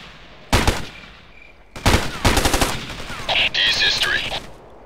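Ghost Recon video game gunfire: sharp single shots, then a quick burst of several rapid cracks, followed by fainter mechanical clatter. It plays over a constant background hiss.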